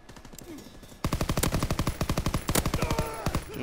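Automatic gunfire in the Call of Duty WW2 video game, a quiet lead-in followed by a long, rapid, evenly spaced burst of loud shots close up that runs to the end.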